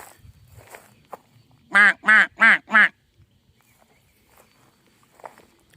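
Four loud, evenly spaced honks from geese at a trail waterside, close by, with soft footsteps on the ground before and after.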